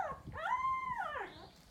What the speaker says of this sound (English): That is Miss Yellow looking for her mama.